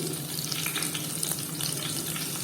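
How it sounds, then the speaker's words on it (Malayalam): Ginger frying in hot coconut oil in a clay pot gives a steady, dense sizzle with crackling spits throughout, heard alone at a close, moderate level. "നമ്മളെണ്ണ ചൂടായി വന്നിട്ടുണ്ട് അതിലേക്ക് ഇഞ്ചി"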